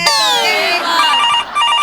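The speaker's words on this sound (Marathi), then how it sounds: "प्रसाद खांडेकरचा फोन आहे, समीर चौगलेचा नाहीये." Electronic ringtone from a mobile phone playing loud and continuous, with melodic falling tones and repeated chiming notes throughout, no talking over it.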